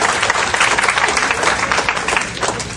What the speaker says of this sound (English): I'm going to ask you to hold the applause because of the time involved in that.